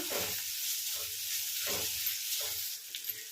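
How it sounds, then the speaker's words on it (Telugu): Sliced onions and green chillies sizzle in a pan with a constant bright hiss, punctuated by a few soft scraping stirs at a regular pace, close and alone without talk. "ఉల్లిపాయలు అయితే వేగిపోయాయి కదా"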